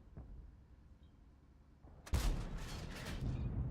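A T110E5 tank's main gun fires in World of Tanks, one sudden heavy boom that rings out and carries a long rumbling tail of battlefield noise.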